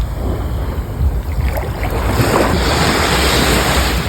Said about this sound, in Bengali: ও বাবা, অনেক জোরে ঢেউ আসছে